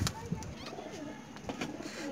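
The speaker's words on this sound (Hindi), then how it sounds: "आपके सामने है वाइट कबूतर है" Soft, low cooing of white high-flyer pigeons sounds close by over a noisy background, with a few brief flutters and clicks scattered through.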